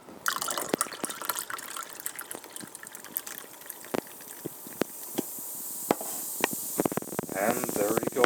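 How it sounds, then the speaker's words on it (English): Pineapple sparkling water is poured into a mug, a close stream of gushing and splashing liquid with fizzy crackles and scattered clicks, rising in pitch toward the end as the mug fills. "open up this pineapple sparkling water, pour it into"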